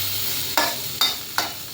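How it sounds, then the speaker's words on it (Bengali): Spiced rohu fish pieces coated with turmeric, chilli powder and salt hit hot spiced oil in a pan, giving three sharp sizzling bursts that fade quickly over a steady background fry. "মাখানো রুই মাছগুলো মশলাতে দিয়ে দেব"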